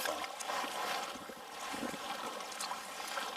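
A kayak paddle blade dips repeatedly into water, soft splashing and trickling strokes heard close by against a faint watery background, with no voices.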